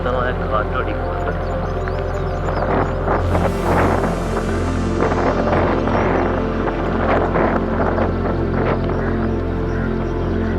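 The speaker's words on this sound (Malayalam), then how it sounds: "ശക്തമായ കാറ്റും അടിക്കുന്നുണ്ട്." Strong wind gusts over a beach road by a rough sea, making dense, roaring buffets on the microphone over a low steady engine hum, with gusts surging and falling throughout.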